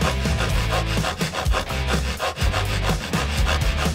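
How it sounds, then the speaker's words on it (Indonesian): A hand saw cuts through a hard object in rapid, rhythmic back-and-forth strokes, loud and close, with no voices over it. "Gergaji, pas banget."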